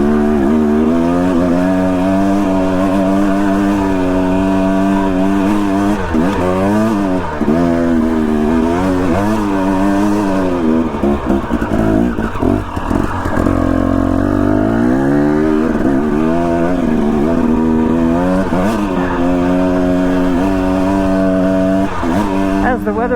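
A motorcycle runs along a dirt trail, its engine droning loud and close throughout with repeated rising and falling revs, and no talk over it.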